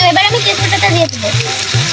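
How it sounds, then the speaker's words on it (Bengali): Spice masala of chili powder, turmeric and green chilies is sautéed in a pan for beef tripe kala bhuna. It makes a loud, continuous sizzle under a tonal, voice-like hum. "তো এবারে আমি মশলাটাকে সুন্দর মতো কষিয়ে নেব।"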